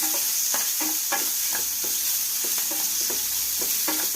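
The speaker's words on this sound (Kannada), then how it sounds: "ಇದು ಸ್ವಲ್ಪ ನೀರೆಲ್ಲ ಸ್ವಲ್ಪ ಕಂದು ಬಣ್ಣ ಬರುವಂಗೆ, ನೀರೆಲ್ಲ ಹೋಗುವಂಗೆ ಫ್ರೈ ಮಾಡಬೇಕು." Ayurvedic cough remedy ingredients fry and sizzle steadily in a pan until brown, with a rhythmic series of spoon stirs and scrapes cutting through the constant hiss, close and loud.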